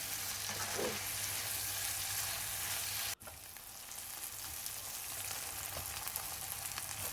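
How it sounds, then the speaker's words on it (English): About 500 grams of sliced onions, five large ones, sauté in a pan with a continuous close frying hiss, interrupted by a brief dropout midway before the even sizzle resumes. "5 large sliced onions, about 500 grams, are sautéed until translucent"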